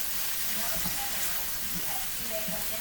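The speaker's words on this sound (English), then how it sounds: "just gonna cook that garlic till it's fragrant. Ooh. Give that a good stir, get it in there." Garlic frying in a pan while being stirred, a steady broadband sizzle with faint scraping strokes throughout, fairly close and even in level.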